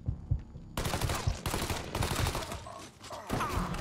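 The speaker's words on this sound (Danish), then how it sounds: "Hvor er ham der, der skyder?" Gunfire in the open-world crime game Mafia III: after a quiet start, a sudden loud burst of rapid shots that continues in dense, crackling volleys with short dips, a heavy exchange of fire close by.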